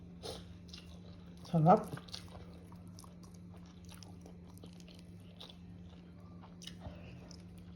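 A single crunchy bite into a raw onion dipped in vinegar, with brief chewing, sounds close under a voice that keeps talking against a steady background hum.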